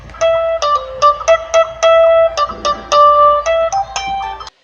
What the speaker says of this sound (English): Succession of single notes might sound like this.